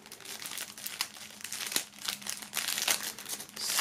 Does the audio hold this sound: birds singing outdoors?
no